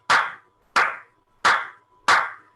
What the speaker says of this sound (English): Oh, I have to clap.